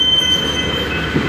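A train backs slowly through the Mykawa railroad crossing, a steady loud rumble of rolling cars with a high sustained wheel squeal running over it throughout.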